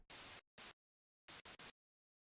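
Bursts of harsh synthesized white noise, one long and one short, then a pause and three quick bursts in a row, each starting and stopping abruptly.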